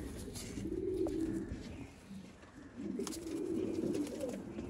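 Lohe cheene pigeons coo in two soft, rolling bouts, steady and close, with no talking.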